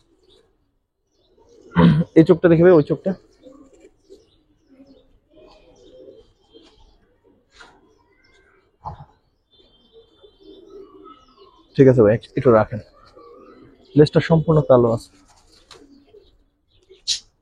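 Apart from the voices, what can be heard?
pigeons cooing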